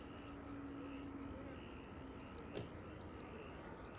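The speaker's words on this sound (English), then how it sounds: "I think you can hear some crickets in the background now." Crickets chirping as a sound effect layered over faint airport ambience at DFW: short, bright, pulsing trills repeat in a few bursts, quiet and steady against a low background hum.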